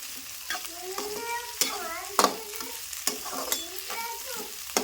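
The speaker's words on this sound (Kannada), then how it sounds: "ಉಳ್ಳಾಗಡ್ಡಿ ಸಂಗಟ ಹಾಕೊಂಡು ಎಣ್ಣೆ ಒಂದು ಸ್ವಲ್ಪ ಫ್ರೈ ಮಾಡ್ಕೊತೀವಿ" Capsicum and onion fry in oil in a pan, with a steady sizzle broken by sharp scrapes and knocks of stirring spaced every second or so. Faint tonal chirps sound in the background.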